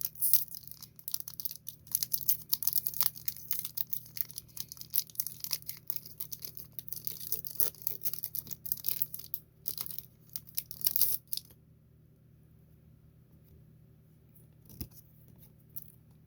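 A Pokémon TCG Destined Rivals booster pack is ripped open with a long run of close, crisp foil tearing and crinkling, in bursts over about eleven seconds before falling nearly quiet, with one last brief rustle near the end.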